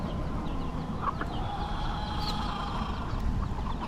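Hens and chickens clucking in a busy outdoor flock in the Florida Keys, one hen with a single chick, with scattered short clucks and chirps over steady ambient noise and other birds calling nearby.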